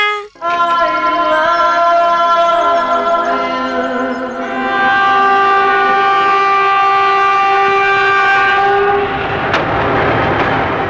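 A passing train sounds a long, loud, steady horn for most of the clip, then the horn gives way to heavy rolling rumble and rattling of the cars nearby.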